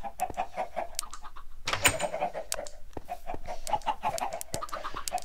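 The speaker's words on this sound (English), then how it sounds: "Don't appreciate the chickens getting out of their zone" Video game chickens on a homestead build cluck in a steady run of short, repeated calls, with one brief louder squawk near the middle. No one talks over them.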